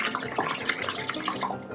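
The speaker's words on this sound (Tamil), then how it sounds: "சோப் தண்ணிக்குள்ளே அந்த கேஸ் ரிலீஸ் பண்ணால்" Butane gas bubbles up through soapy water, a steady wet fizzing and gurgling with small splashy pops throughout, close and fairly loud, no voices.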